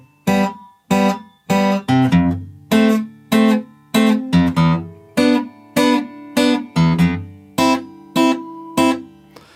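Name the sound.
acoustic guitar fingerpicked intro of a song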